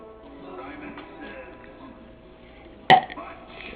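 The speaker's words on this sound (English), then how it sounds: "So I'm about to shake you up to get a burp?" A single short burp erupts loudly near the end, preceded by quiet indistinct talk and background murmur.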